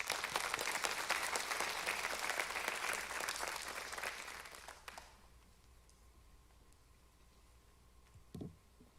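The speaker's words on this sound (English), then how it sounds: "Let's give a round of applause for the parents, family members, and teachers that stand behind us every day." An audience at an honor society induction ceremony claps in a broad, even burst of applause for about five seconds, then it fades to a quiet room with one brief knock near the end.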